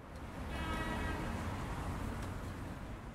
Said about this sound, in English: And finally, a busy street in the city sounds like this.